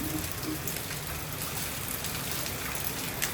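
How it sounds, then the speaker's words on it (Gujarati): A constant loud wash of heavy rain falls in Surat, broad and unbroken, with occasional sharper drips and splatters close by. "સુરતમાં બહુ વરસાદ છે"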